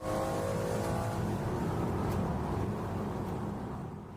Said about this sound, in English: Just a violent but clean rise in revs.